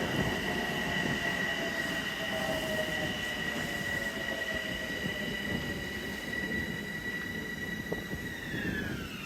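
An eastbound LIRR train pulls into Woodside station, rumbling steadily up close with high, gliding wheel and brake squeals that fall in pitch as it slows, no voices over it.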